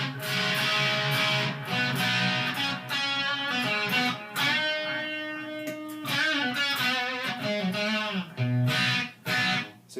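A Gibson Les Paul with Dragonfire pickups plays through a Marshall amplifier with a thin, bright, trebly dry tone, highs up and no mids, sustained chords and notes ringing with brief pauses, no voices.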